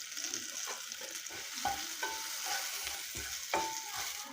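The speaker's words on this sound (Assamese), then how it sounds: "কেঁচা জলকীয়া এইখিনি মই ভালকে ফ্ৰাই কৰি লম" Green chilies fry in a pan with a steady soft sizzle, while a utensil stirs and scrapes at intervals, all fairly quiet and close.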